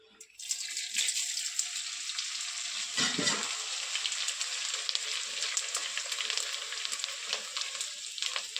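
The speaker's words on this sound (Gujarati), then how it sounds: "આપણું ઘી ગરમ થઈ ગયું છે, તો હવે થોડું થોડું ગુંદ તરી લેશું" Pieces of edible gum (gund) fry in hot ghee with a steady, close sizzling hiss that begins abruptly and continues, with a brief stirring clatter partway through.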